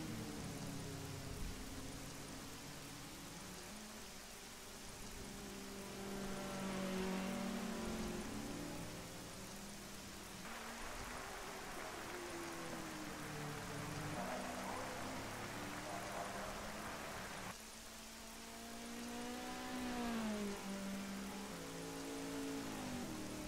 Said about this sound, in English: if we have rain in the game, it's raining on the track right now